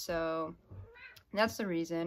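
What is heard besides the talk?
cat meowing in the background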